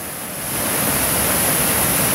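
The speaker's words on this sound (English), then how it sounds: "Here we got the Great Falls of Tinker's Creek" The Great Falls of Tinkers Creek tumbling over Berea sandstone make a steady, full rushing roar that swells in over the first half-second and then holds loud and even, with no voices.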